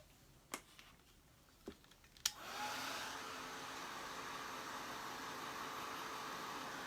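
A hair dryer blows over a pumpkin shape painted as a snowman. Three sharp clicks come first, then the dryer switches on and roars with steady airflow.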